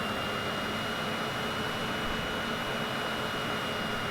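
A Citation CJ4 business jet's engines hum and hiss steadily as the throttle is cracked slightly during landing practice, a smooth even whine with no voices.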